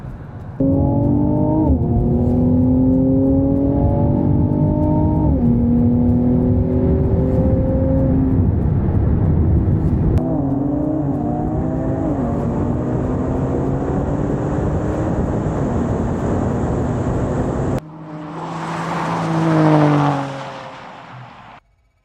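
A tuned Mercedes C43 AMG and a tuned Infiniti Q60RS rev hard through repeated gear shifts in a drag and roll race, rising and dropping in pitch, loud and sustained, then one car roars past and fades away.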